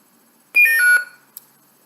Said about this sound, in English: press and hold the button until you hear a series of beeps